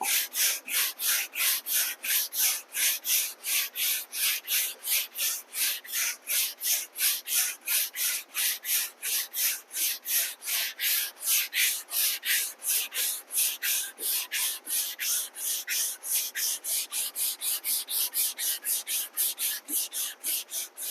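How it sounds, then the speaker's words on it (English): Sandpaper is rubbed by hand across body filler on a car body repair panel, making a long run of even, rhythmic rasping strokes, roughly two per second, close and with no voices. "I'm not putting any pressure on letting the sandpaper do all the work."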